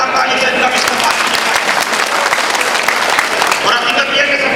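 An audience at a district-level community society conference in India claps loudly and steadily, a dense, sustained burst of applause close by throughout.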